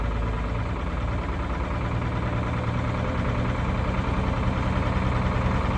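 A diesel engine idles at around 1200 RPM, a steady, loud, low rumbling drone with constant vibration and no breaks, heard close by and alone.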